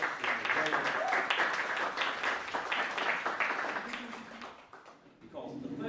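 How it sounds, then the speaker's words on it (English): Applause from a seated audience greeting guests taking their seats at an artist business talk event, a fairly faint, steady patter of clapping that fades near the end, with some voices mixed in. "round of applause for our guests"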